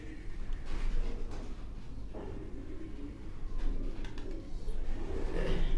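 Sialkoti high-flying pigeons from Quetta coo softly in a steady low murmur, with bursts of fluttering and background noise throughout.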